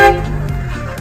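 Horn of a Volvo 850 car sounding in one short toot near the start, close and loud, followed by a low engine rumble for the rest of the moment.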